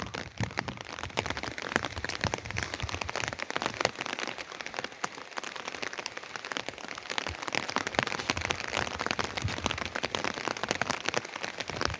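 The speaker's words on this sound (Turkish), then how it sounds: "Sanki doluyla beraber yağıyor" Heavy rain mixed with hail pelting a surface with dense, sharp crackling impacts, a constant loud patter with no voices, in a village during autumn.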